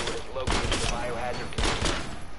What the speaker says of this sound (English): someone's getting shot in the head